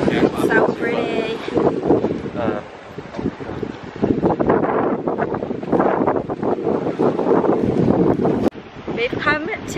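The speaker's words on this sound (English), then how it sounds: "It's literally so windy, but it's so pretty." Strong gusts at Animal Flower Cove, Barbados, buffet the microphone in loud, uneven roars, with a voice speaking over the blustery rumble throughout.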